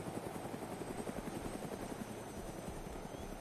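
A video game helicopter whirs steadily, its rotor beating in a fast, even chop with a constant engine drone and no voices.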